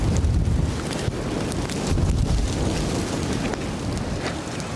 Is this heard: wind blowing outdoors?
yes